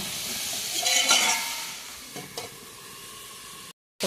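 Sliced bitter gourd frying in a pan with a steady sizzle, stirred with a utensil that scrapes and clinks a few times before the sound cuts off.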